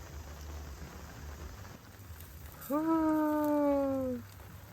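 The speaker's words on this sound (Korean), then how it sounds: "비가 와요" Rain falls in the countryside around Chuncheon and Gapyeong with a faint, steady hiss. Partway through, a drawn-out voice-like tone rises over it for over a second.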